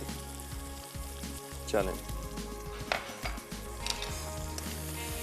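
A potato and mince paratha filling with coriander and chillies crackles softly as it roasts in a pan, a steady low sizzle with occasional stirring scrapes, while someone talks briefly over it.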